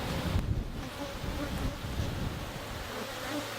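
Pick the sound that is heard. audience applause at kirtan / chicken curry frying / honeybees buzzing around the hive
honeybees buzzing around the hive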